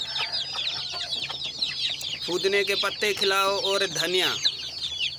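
Desi hens and chicks cluck and squawk in a farm coop, a busy stream of overlapping calls that swells in the middle while someone talks over them.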